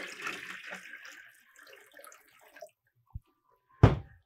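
Hot water splashes and pours into a mop bucket, a brief gush of running water at the start that tapers off, followed by a couple of sharp knocks from the plastic bucket.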